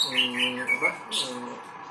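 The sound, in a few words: canary singing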